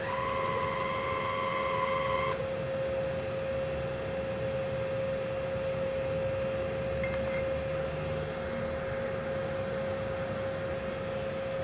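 A gasless MIG welding machine running on a 900-watt household supply hums steadily with a constant tonal whine, and a brief whirring feed of wire comes at the start before the drone continues alone.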